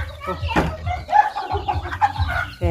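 Chickens and a rooster clucking loudly close by, with overlapping calls over a rural background and a person speaking at points.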